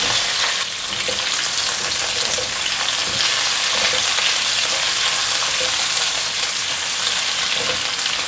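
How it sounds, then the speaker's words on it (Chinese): Tofu and seaweed are stir-fried in a hot pan, giving a continuous loud sizzle with light scraping from stirring and tossing throughout, without any talk. "继续把这些食材炒香"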